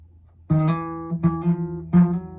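Three plucked notes on a guitar's fourth string, each ringing briefly before the next, close and clear in a quiet room.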